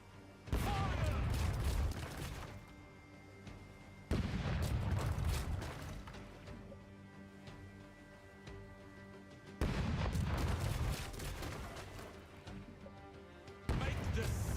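Cannon broadsides in the pirate video game Rogue Waters: four loud booming volleys a few seconds apart, each a dense crackling blast that decays into a ringing, humming tail, with brief voices between.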